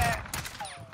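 Rapid gunfire in a first-person shooter game, a quick close burst of sharp shots packed into under a second, fairly loud with nothing else around it.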